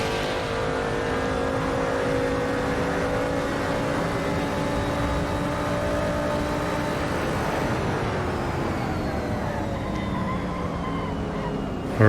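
A 1960s historic prototype race car drives at Watkins Glen, its engine a continuous loud drone heard from on board, holding a steady pitch before shifting and climbing again as it accelerates.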